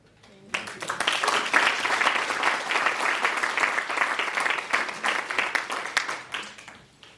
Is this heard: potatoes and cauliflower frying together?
no